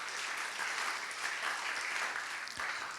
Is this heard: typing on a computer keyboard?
no